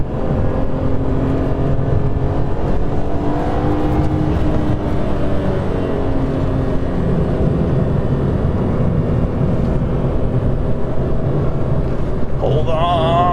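A BMW E46 M3 engine holds a steady, loud drone in third gear at 5,000 RPM while driving, a continuous, unbroken roar from inside the car with road noise underneath.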